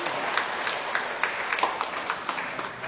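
Audience applause at a formal association ceremony, a modest spread of clapping with distinct individual claps standing out over a soft, steady wash of hands.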